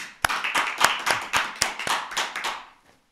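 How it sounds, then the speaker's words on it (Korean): A short burst of audience applause at a Buddhist dharma talk, a steady train of sharp claps that fades out after a few seconds. "자, 우리 큰 박수로 맞아주세요."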